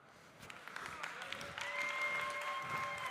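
Applause from a festival audience at a coffee event, steady and moderate, with rising tonal voices or a sustained sung note over the clapping in the latter half.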